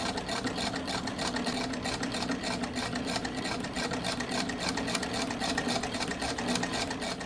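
Sewing machine running continuously and steadily as it stitches together pinned pairs of lining segments for a deerstalker hat, a close, even motor whir with rapid needle chatter and no talking.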